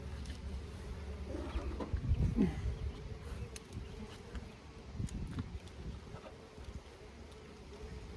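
A honeybee swarm drones at a backyard hive during a swarm check, a continuous low buzzing with wind rumble over the microphone and faint passing sounds, fairly quiet and steady.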